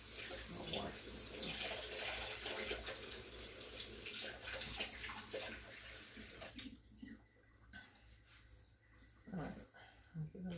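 Running tap water pours steadily at the kitchen sink while a spoon is washed, then the flow breaks into splashes and faint clinks, with some speech in the background.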